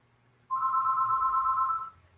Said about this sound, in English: I hate phones and they're ringing.